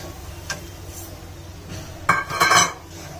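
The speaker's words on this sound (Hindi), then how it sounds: "फिर इसे मिलाते रहेंगे साथ साथ में" A spoon stirs a fresh coconut and milk powder burfi mixture in a pan, giving a few light taps and then a short cluster of louder metallic scrapes and clinks near the end.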